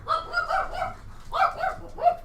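A dog barks several times in two quick bursts, close and fairly loud, with short pauses between the barks.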